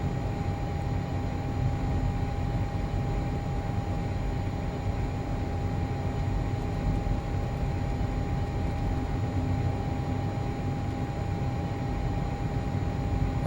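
Learjet 35A engines in the MSFS flight simulator, flying with flaps deployed, produce a constant roaring drone with a thin steady whine running through it, unbroken and even in loudness.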